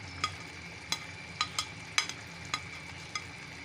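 Mutton mince with onions being stirred in a hot frying pan: a steady sizzle with about eight sharp scraping strokes of the spoon at a regular rhythm, close and moderately loud, no talking.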